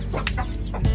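Chickens clucking inside a coop, with several short, close clucks in quick succession over a steady background murmur.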